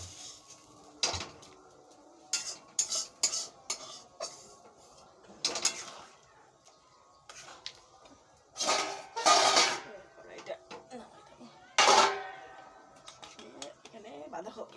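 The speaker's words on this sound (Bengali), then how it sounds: "এখানে বাঁধাকপি সিদ্ধ বসিয়ে দিলাম" A pot of cabbage set down on a stove to boil, with a series of sharp metallic clanks and knocks of cookware, some loud and close, scattered across the clip between quieter gaps.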